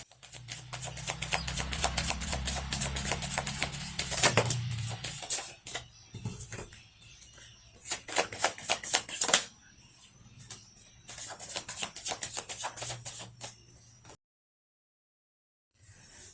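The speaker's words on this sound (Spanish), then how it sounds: "Ahora vamos a barajar las cartas de profundización" Soft, rapid riffling and flicking of tarot cards in bursts, with brief pauses between shuffles, close and quiet, ending in silence.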